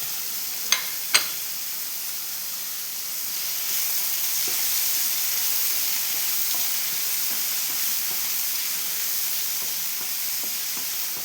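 Shallots and crushed cumin frying in a pan for Kerala-style rasam, a continuous close sizzle with a couple of sharp clinks near the start and faint stirring through it.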